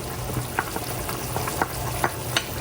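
String beans hitting a pan of frying pork adobo, a steady sizzle and crackle with scattered sharp pops and spatter spikes through the cooking.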